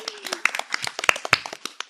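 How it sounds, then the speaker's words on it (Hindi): Children in an audience at a quiz-style kids' programme clap in a scattered, uneven burst of sharp individual hand claps, close and fairly loud, without a steady rhythm. "एक बार जोरदार तालियां हो जाए"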